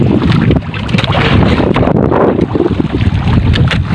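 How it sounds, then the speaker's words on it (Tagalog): Loud, continuous rushing water of a strong current at a fishing spot roars up close, churning and turbulent, mixed with gusty wind buffeting the microphone. "Grabe yung lakas ng agos. sumisirit."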